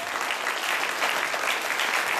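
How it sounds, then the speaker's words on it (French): Dense, steady audience applause fills the whole stretch, loud and close, with no speech over it, honouring children performing alongside adults. "Applaudissez-les comme il se doit."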